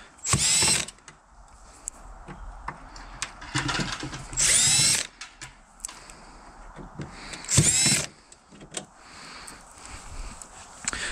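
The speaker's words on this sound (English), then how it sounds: "Cordless drill is definitely a plus to make short work of it." Cordless drill whirring in three short bursts, close by, dismantling an air conditioning unit for scrap, with clicks and rattling of screws and metal between runs.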